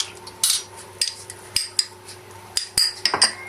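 A spoon clinks and taps against a pot while colored sweet rice is stirred, about a dozen sharp, irregular metallic knocks close up, with no speech.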